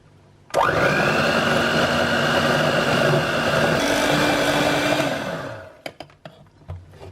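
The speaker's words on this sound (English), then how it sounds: "And now whisk it in, starting quite low because it'll just splatter everywhere." An electric whisk on a low setting whips cocoa powder into cream for chocolate whipped cream in a low-carb no-churn ice cream, its steady motor whine starting abruptly, rising partway through, then winding down, followed by a few light clinks.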